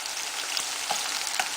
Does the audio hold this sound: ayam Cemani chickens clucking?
no